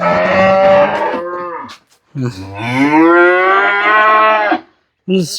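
Two long, loud Jersey cow moos close by, the second drawn out and rising, with brief pauses and a third call just starting at the end.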